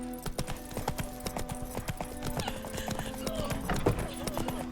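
Roach the horse clopping along at a steady walk in The Witcher 3, hoofbeats in an even rhythm with a brief whinny-like note near the end, a rider's voice speaking over it.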